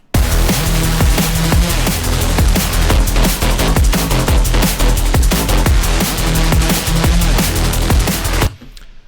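A drum and bass remix of a track plays loud and dense with rapid punchy drums and heavy bass, cutting off abruptly near the end.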